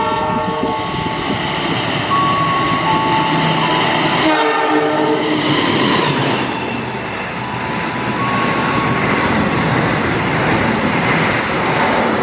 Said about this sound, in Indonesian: keretanya langsung akan segera lewat di stasiun Cibitung.